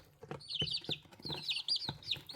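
A white Cochin hen clucks up close in a series of short, throaty calls rising into brief squeaky notes, repeated in quick bursts.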